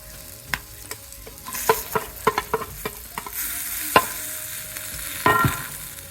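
Stuffed Kathiyawadi chillies sizzle in a pan as leftover flour is stirred in, a constant fry hiss with a run of sharp spatula clicks and scrapes against the pan, close up and without speech.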